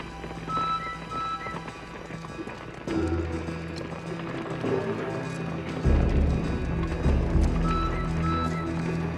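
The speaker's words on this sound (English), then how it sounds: "then the pounding hooves on the hard ground" Horses gallop over hard, dusty ground in a Wild West setting, a steady drumming of many hooves that grows heavier and closer partway through, with the occasional whinny.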